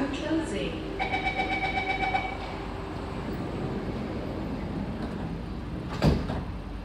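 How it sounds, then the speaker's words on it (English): SMRT C151B metro train doors closing on a night ride from Admiralty to Khatib: a repeated electronic warning chime sounds for about two seconds over the steady rumble of the moving car, followed later by a single dull thud. "Doors are closing."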